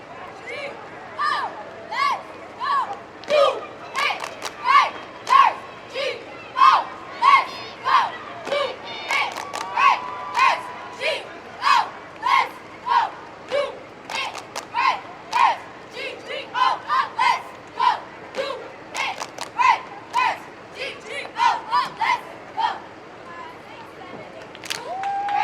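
A squad of champion girls' high school cheerleaders, the Lady Raiders, chants a rhythmic cheer in unison with sharp, evenly spaced shouts and claps at an outdoor Labor Day parade, loud and steady over faint crowd background.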